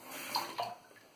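Tap water splashes over a shaving brush being rinsed in a sink, a brief soft running-water sound with a couple of small bursts, fairly quiet and close.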